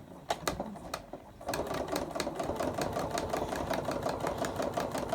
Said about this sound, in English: I'm going to sew along through the foam, through our pinned work.